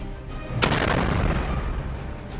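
A Houthi missile strikes a ship and sets off a sudden sharp blast, followed by a rolling roar that fills the rest of the moment.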